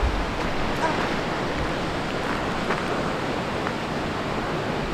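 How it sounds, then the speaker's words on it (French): Ocean waves break along the California coast by Highway 1, heard as a steady, loud wash of surf mixed with wind buffeting the microphone for the whole stretch, with no clear pauses between swells. "Allez, il y a des vagues, regarde en bas."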